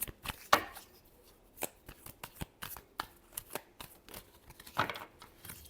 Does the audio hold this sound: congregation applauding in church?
no